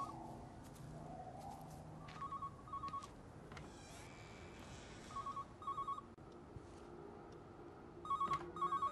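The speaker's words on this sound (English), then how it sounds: "The phone going off here." An old landline telephone rings in repeated short double bursts inside an 1980s house in the game Everybody's Gone to the Rapture, heard over a steady low ambient hum with no talking.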